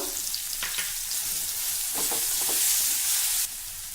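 Red chili powder frying in hot oil, a steady close sizzle with a few brief stirring clicks, no talking.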